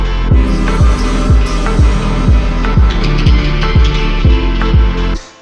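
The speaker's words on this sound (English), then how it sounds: "The bass is a simple straight breeze, side chained on a kick." House music loop built in Logic Pro, full mix with a straight bass line side-chained to a kick drum, the bass ducking in a steady pumping rhythm on every beat, loud and continuous before cutting off at the end.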